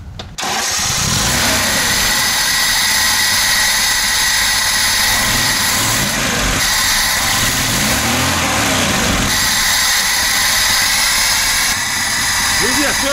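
A VAZ car with a carburetor cranks and fires up, then settles into a loud, steady idle close by, with voices faintly in the background.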